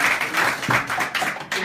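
Scattered clapping from a small crowd at a Black History event in a gallery, uneven and moderately close, with some murmuring voices mixed in.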